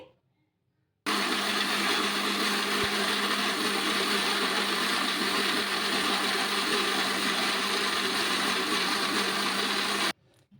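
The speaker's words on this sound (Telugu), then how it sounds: "ఇప్పుడు మిక్సీ అయితే మెత్తగా పట్టేసుకోవాలి" A mixer grinder whirs steadily for about nine seconds, grinding urad dal idli batter, loud and close, with a constant motor whine over a churning grind, then stops abruptly.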